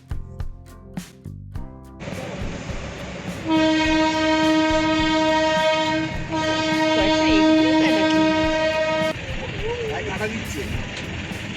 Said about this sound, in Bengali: ওই দিকের পাহাড়টা দিয়ে টয় ট্রেন যাচ্ছে।